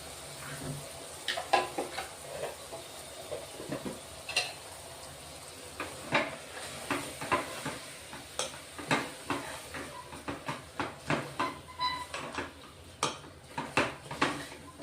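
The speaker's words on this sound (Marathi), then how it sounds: "तांदूळ आहे ना मसाल्यांमध्ये चांगला लागला पाहिजे म्हणून चांगलं परतून घ्या व्यवस्थित." Soaked rice being stirred and fried with spices in a pressure cooker pot for pulao, repeated scraping clinks of a metal spoon against the pot over a soft sizzle, close and fairly quiet.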